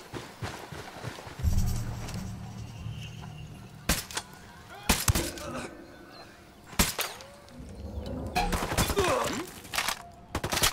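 Suppressed gunfire in the co-op shooter Ghost Recon Wildlands, heard as several sharp isolated shots spread across the stretch, loud against a low rumbling bed, with a voice murmuring underneath at times.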